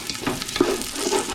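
Curry leaves crackle and sizzle sharply in hot oil, a short burst of close, bright frying hiss with quick popping accents.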